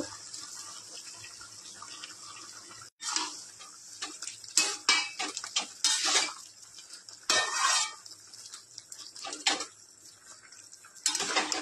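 Tomatoes and salt being stirred in a cooking pot with warm water for a Bengali mixed vegetable dish, a quiet start followed by repeated bursts of scraping and clinking from a utensil against the pot, close and uneven in rhythm.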